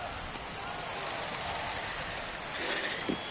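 Steady rain hisses across a baseball stadium in MLB The Show 21, a dense, even wash of falling drops with no voices over it.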